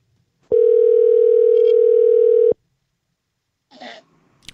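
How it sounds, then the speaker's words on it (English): A single ringback tone on a Bluetooth phone channel during a live show call holds loud and steady for about two seconds, then stops. A short cough-like noise follows a moment later. "The phone is ringing."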